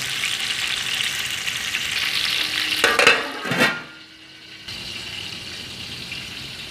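Onions fry in ghee in a pan for chicken pulao, a steady loud sizzle with stirring that swells, cuts out sharply when the pan is covered, then resumes more quietly.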